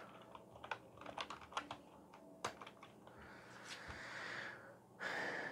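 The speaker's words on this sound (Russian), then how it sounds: "Клава работает." A computer keyboard tapped in quick, uneven bursts of clicks at close range, followed by breathy sounds and a soft sustained hiss toward the end.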